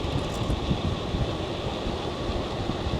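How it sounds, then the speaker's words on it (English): Steady, roaring wind rushing across the microphone, constant and loud throughout with no pauses, like air buffeting a rider on a fast-moving, freewheeling e-bike. "it's cold and windy"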